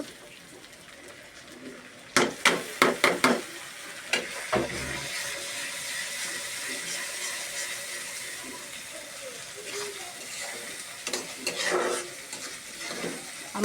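Dried shrimp cooking with spices in a hot pan for a drumstick curry, a steady sizzle broken by a quick burst of sharp clanks and stirring scrapes, then softer intermittent stirring; no talking.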